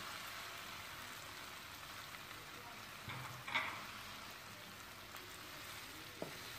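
Boiled pasta tipped into a pan of frying vegetables and stirred, a quiet steady sizzle with a few soft scraping stirs and knocks partway through.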